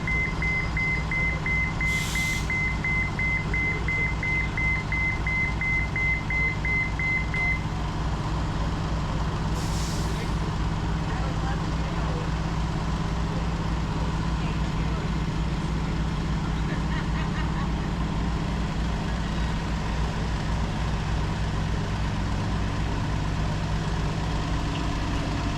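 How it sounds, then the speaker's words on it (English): A bus idles with a steady low engine rumble while its driver loads a mobility scooter aboard at Disney's Hollywood Studios; a series of regular warning beeps sounds early on, with brief hissing bursts and faint voices. "let's watch the process where the bus driver takes full control of Nancy's scooter to load both on the bus"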